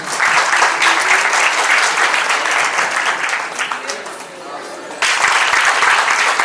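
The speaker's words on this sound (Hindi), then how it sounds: "इन लोगों के लिए बस जोरदार तालियां।" Loud, dense applause from an audience at a corporate awards program fills the room, dipping briefly midway before surging back to full strength, with a voice faintly underneath.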